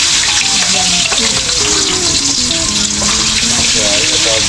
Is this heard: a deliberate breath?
no